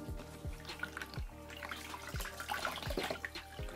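Water splashing and dripping at a bathroom sink as a face is dampened, with soft repeated splashes and a steady running-water background.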